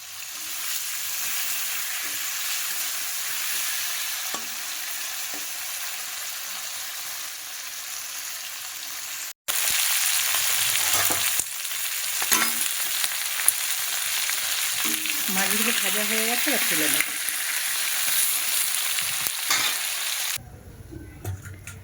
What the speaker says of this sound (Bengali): এবারে আমি মাছ কুঁচে মাছটা ভেজে নেব